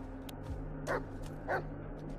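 A dog in the Blair Witch horror video game gives two short, moderately loud barks about half a second apart, over a steady low game ambience.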